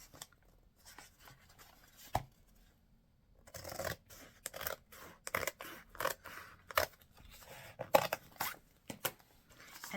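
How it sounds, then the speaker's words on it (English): Scissors or a utility knife cutting through a stack of book pages for a folded-book floral centerpiece, heard as close, dry scratching snips and rasps in uneven bursts, some quiet stretches between. "you're going to cut through all of your pages"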